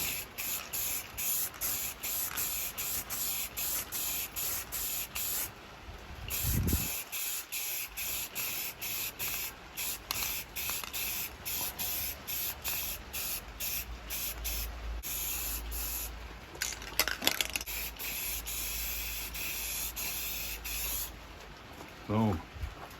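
An aerosol spray can hisses in rapid, repeated bursts while a coat of paint goes onto a Turbine 400 transmission from a 1966 Buick Wildcat, close and steady, with brief pauses between strokes.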